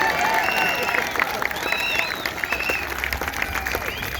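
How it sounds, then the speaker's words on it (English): Crowd applause at an Adelaide freedom rally, sustained outdoor clapping with scattered cheers and shouts, fairly distant, with voices mixed in. "Clap, clap, clap."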